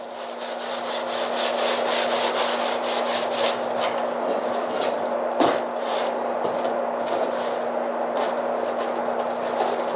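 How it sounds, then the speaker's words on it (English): Crumpled aluminum foil scrubbed hard against a rusty surface, a continuous loud abrasive rasping with rhythmic back-and-forth strokes and one sharp scrape midway, close up with no talk. "I'm scrubbing this hard"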